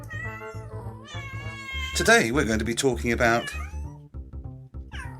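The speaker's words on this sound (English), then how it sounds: "That's a cat" A cat meows repeatedly over a comic talk-show intro, with drawn-out, wavering cries loudest in the middle and short mews near the end, mixed with someone talking and background music.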